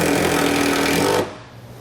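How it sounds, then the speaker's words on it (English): A power driver sinks a number 14 self-tapping screw into a steel E track, a loud close buzzing rattle that holds steady and then cuts off sharply, leaving quiet room noise. "we're going to be using number 14 self-tapping screws to get it secured"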